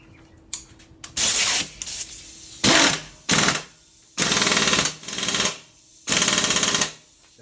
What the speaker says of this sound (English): put your nuts straight onto the thread in the rattle gun and pull the trigger